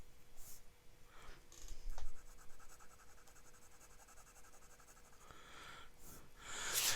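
An Urushi Studio Xiphos fountain pen nib writes on paper, giving soft, close scratching strokes in intermittent bursts against a quiet room.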